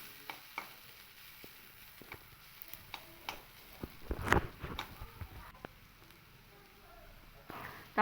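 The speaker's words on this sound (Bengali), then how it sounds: "এইভাবে আমি হালকা আরও 2 থেকে 3 মিনিট একটু নাড়াচাড়া করে নিলেই কিন্তু তৈরি হয়ে যাবে আমাদের বিট ভাজা" Beetroot fry being stirred in a pan, with scattered spatula taps and scrapes over a faint low sizzle, and a louder clatter near the middle.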